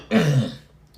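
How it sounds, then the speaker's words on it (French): A person clears the throat with a short, harsh cough-like burst, close and loud, alone in a quiet room during a deliverance prayer session. "tu vas commencer à tousser."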